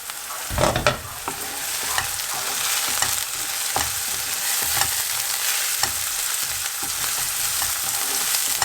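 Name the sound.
onions frying in a pan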